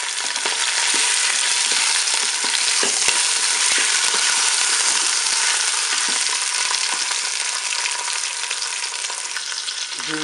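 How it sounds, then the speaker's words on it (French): Pork roast browning in oil inside a preheated Cookeo pot, a loud, steady, dense sizzle of hot fat that holds without pause close up. "Mon préchauffage est terminé, je vais faire dorer mon rôti."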